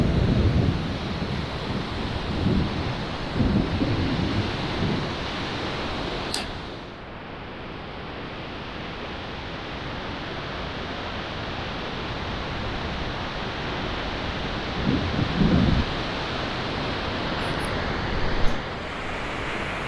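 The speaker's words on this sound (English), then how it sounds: "So right behind me here is the falls." Mamkon Falls, a waterfall with blue water in British Columbia, Canada, roars as a steady, loud broadband rush of falling water heard close from a viewing platform, continuous throughout with no voices.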